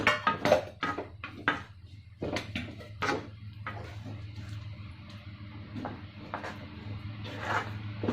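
Roasted groundnuts being stirred in a pan of hot jaggery syrup for groundnut burfi with the flame off, giving a run of close scraping and clattering knocks against the pan, busiest in the first few seconds, over a steady low hum.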